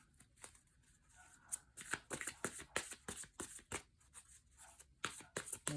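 Brand-new tarot deck being shuffled by hand, a run of crisp, rapid riffling and card-slapping bursts close up, growing denser and louder after the first couple of seconds, with no voices.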